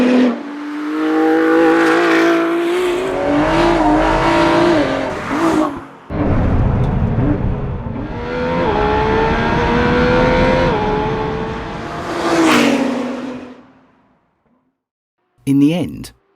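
A Ford GT supercar driven hard around a raceway in track mode, its engine rising and falling through loud revving climbs and gear changes as it passes close by, then fading out before a final burst.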